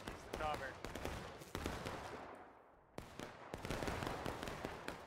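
Musket volleys crack out in War of Rights, a Civil War battle game, as a series of close, sharp reports with echoing tails, some bunched together and some spaced apart, alongside faint voices.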